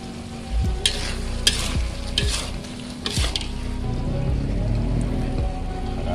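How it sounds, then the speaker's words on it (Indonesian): Spicy chicken cap cay is stirred in a frying pan, the spatula scraping in several loud strokes over a steady close sizzle of frying vegetables and sauce. "Kita aduk lagi biar bumbunya merata."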